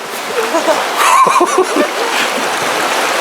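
Gentle class 1 river rapids during a rafting trip through Ausable Chasm, short splashing and sloshing bursts close by, with voices of people speaking over the water.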